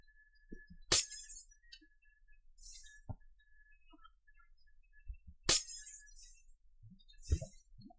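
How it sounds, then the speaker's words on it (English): Glass blocks broken in Minecraft: two crisp shattering crashes several seconds apart, each with tinkling debris, over near-silence with faint clicks and soft block placements in between. "just break out the glass, catch it when I can, replace it with red glass"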